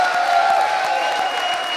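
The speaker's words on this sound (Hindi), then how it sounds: "और एक बार फिर जोरदार तालियां हमारी आज की स्टार रज्जो उर्फ कंगना रनौत के लिए" A studio audience claps steadily for actress Kangana Ranaut on a comedy show, a dense, even wash of applause with light cheering, brief and continuous.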